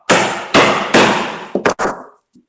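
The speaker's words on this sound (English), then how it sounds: "I'm going to start the cut by just placing the chisel here," A mallet drives a chisel into wood to cut a joint: three loud, evenly spaced heavy blows, then a quick cluster of smaller taps and a faint final knock, close and alone.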